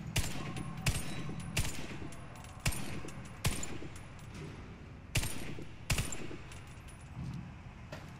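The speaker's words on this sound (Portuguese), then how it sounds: "Sete tiros, só confirmar de novo." Single shots from an M249 Para light machine gun in the shooter game Warface, seven sharp reports fired at uneven intervals over a steady background hum, loud and close with no talking.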